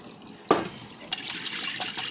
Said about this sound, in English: This is the second straining with the colander.